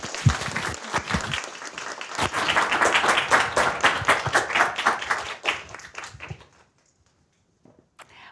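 A lecture audience welcomes a speaker with loud, sustained applause that swells, then thins into scattered claps and fades to near silence.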